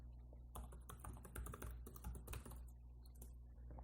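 Fingers typing a terminal command on a computer keyboard, a quick uneven cluster of close, crisp key clicks over a low steady hum, easing off toward the end.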